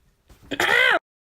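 A single short, rough throat clearing, close and fairly loud, followed by a brief pause.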